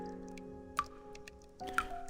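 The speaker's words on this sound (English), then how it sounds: "Sound of dripping water echoes nearby." Water drips nearby in a quiet space, two distinct clear plinks roughly a second apart ringing out faintly over a soft sustained tonal background.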